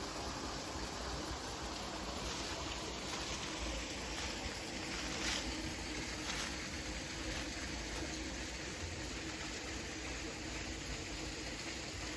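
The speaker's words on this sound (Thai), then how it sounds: "เป็นน้ำตกนะ" Waterfall in a forest pours steadily, a loud continuous broadband rush of falling water with no pauses, filling the whole clip evenly.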